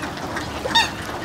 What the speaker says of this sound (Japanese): 水鳥いっぱいいるね。 カモ、 カモかな。